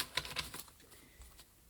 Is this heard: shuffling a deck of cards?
yes